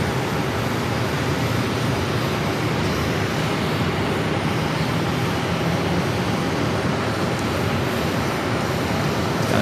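An American Airlines jet diverting into Phoenix with its landing gear already down, a steady, loud broadband engine roar and rushing air that holds constant throughout with no speech.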